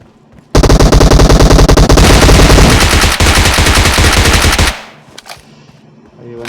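Dense automatic gunfire from a battle royale video game, loud, rapid bursts running for several seconds before cutting off, followed by a few scattered clicks and faint game sounds.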